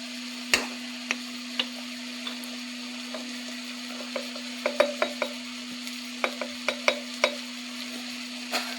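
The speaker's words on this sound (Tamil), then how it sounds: "தக்காளி நல்லா வதங்கட்டும்." Tomatoes and onions sautéing in a pan for a prawn thokku, a steady low sizzle with a constant hum beneath and scattered light clicks and scrapes of a spoon stirring, close and alone.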